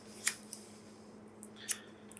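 Scissors snip through a long leftover piece, making two crisp, quiet cuts about a second and a half apart, with faint small clicks in a hushed room.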